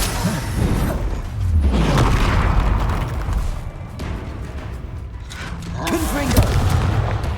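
Bombarda spell blasts in the video game Hogwarts Legacy, heavy booms and crackling impacts amid dense combat noise during a mine battle, loud and continuous with several bursts.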